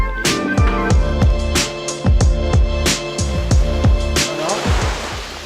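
Ocean waves at Pantai Ampenan, a quiet black sand beach in Mataram, Lombok, surge and wash steadily nearby in continuous rough, layered noise with no voices.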